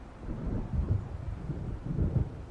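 Low thunderstorm rumble in the video game Alan Wake, a steady deep roll of thunder with swelling peaks over rain and wind, heard alone without talk.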